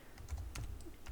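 Short, quiet burst of typing on a computer keyboard while writing JavaScript code, a few light, uneven key clicks close to the microphone.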